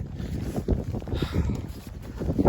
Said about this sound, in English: A few big gusts of wind